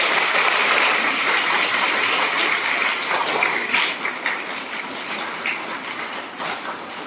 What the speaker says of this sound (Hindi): अतः धन्यवाद स्वरूप तालियां बजाकर हम सभी उनका आभार करते हैं।